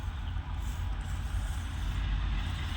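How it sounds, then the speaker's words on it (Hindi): A loaded Indian transport truck rumbles low and steady as it pulls over to the roadside, its engine drone constant and close with a faint hiss above. "इधर रोक लेते हैं गाड़ी साइड में।"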